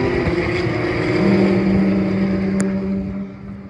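A Range Rover Velar SVAutobiography passes at the Dijon-Prenois circuit, its engine a steady, fairly close drone with a brief sharp click partway through.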